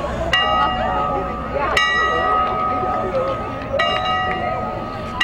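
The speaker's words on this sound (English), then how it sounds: "Go deaf ringing that bell." Bell rung repeatedly at the Chazy Memorial Day parade, bright clanging strikes every couple of seconds, ringing over a steady outdoor crowd murmur and nearby voices.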